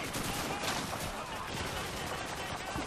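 Dense, continuous gunfire in Call of Duty 2, rapid overlapping shots and bursts filling the whole stretch at steady loudness, like a sustained firefight close around the player.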